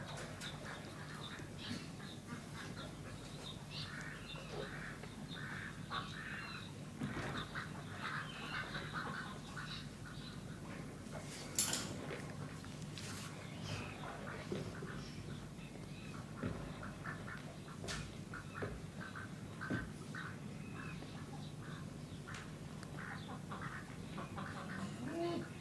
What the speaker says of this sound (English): there's some ducks swimming around in the water.